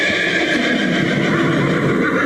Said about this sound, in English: That was a sus, a horse.